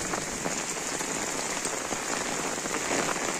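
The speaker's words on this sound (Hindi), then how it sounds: "फाइनली घर पहुंच चुके हैं और बारिश भी थोड़ा सा कम हो चुका है" Steady rain patters densely on a surface, a constant hiss of drops close by with no voices.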